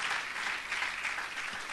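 A church congregation claps steadily together during a worship service, a dense, continuous burst of applause filling the room.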